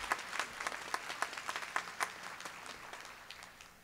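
Commencement audience applauding the college president, Dr. Marcia Keyes, with distinct individual claps standing out at first, then thinning and fading toward the end. Moderately distant and fairly quiet.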